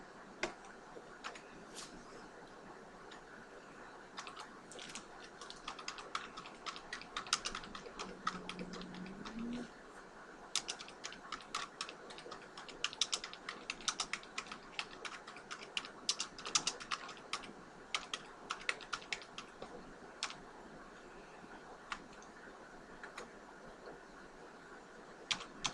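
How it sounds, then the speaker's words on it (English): Quiet typing on a computer keyboard, with faint, irregular key clicks running steadily through the whole stretch under a low background hum and no talk. "I can type a message to display on the invoice."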